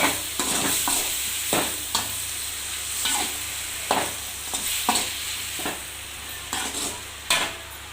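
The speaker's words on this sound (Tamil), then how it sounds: "ஒரு ஆறு தக்காளி போட்டிருக்கேன் பெரிய தக்காளியாகவே இதை கொஞ்சம் நல்லா வதங்கட்டும்" Six large tomatoes sautéing in a pan sizzle steadily up close while a spoon scrapes and clacks against the pan in frequent irregular strokes, with no voices.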